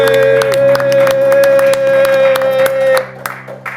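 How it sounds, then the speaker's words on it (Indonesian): Studio audience clapping for a guest on an Indonesian football talk show, a dense patter of hand claps over a steady musical tone, fading near the end. "kita tepuk tangan buat Cahya Nopriani."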